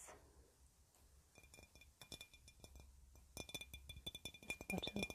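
Glass items, including a glass plate and a bottle, tapped by hand in a quiet room, giving bright clinks that start sparse and grow into quick, close, ringing taps.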